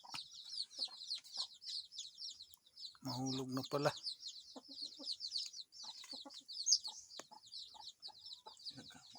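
Chicks cheep and chickens cluck softly and continuously in the background, with a voice briefly speaking nearby.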